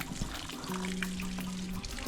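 Water runs steadily from a tap as boys drink and wash their hands and feet during a fort trek in Maharashtra, a close splashing flow with brief clunks and no talk.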